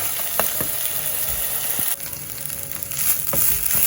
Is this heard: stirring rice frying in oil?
yes